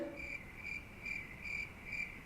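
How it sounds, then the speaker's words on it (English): Crickets chirp in a steady rhythm, five evenly spaced trilled bursts against a quiet night-like background, clear and fairly close with no voices. "Do I hear crickets?"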